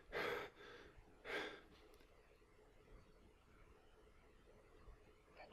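A character in the PC survival game Down to One pants, with two short, breathy gasps close together early on, then quiet background hiss.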